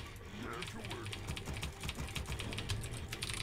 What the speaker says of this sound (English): I'm typing a little too fast.